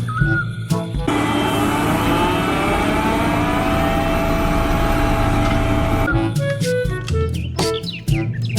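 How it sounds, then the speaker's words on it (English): A road roller engine runs steadily with a loud, sustained droning hum, broken near the end by sharper clanks and bird-like chirps. "Road roller."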